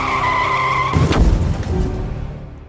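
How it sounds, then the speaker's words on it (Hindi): A speeding dump truck strikes a motorcycle on a road: a sharp skidding screech cuts off a steady engine tone, followed by a dense, rumbling burst of crash noise that trails off into lingering clatter. "शब्बीर अपनी मोटरसाइकिल पर सवार जा रहे थे कि अचानक एक तेज रफ्तार डंपर ने उन्हें टक्कर मार दी।"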